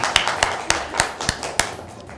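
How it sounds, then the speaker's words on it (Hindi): Sparse claps from a few people at an Easter family gathering, about eight sharp hand claps spaced unevenly over a couple of seconds, moderately close with a faint murmur underneath. "तालियां होनी चाहिए जी इस बात के लिए"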